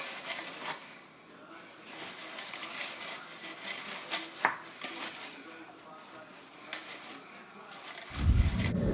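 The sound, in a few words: mixing chocolate salami mixture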